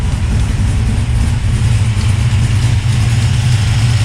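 A Henry J gasser car idles loudly and close, its engine breathing through Flowmaster exhaust with cutouts. The low, steady, throaty rumble holds without revving.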